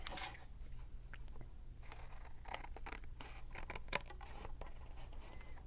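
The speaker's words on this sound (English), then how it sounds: "I'm going to trim it just a little bit off this edge" Scissors trim a paper edge for a journal page, making a few faint, close snips and rustles against a steady low background hum, with no one talking.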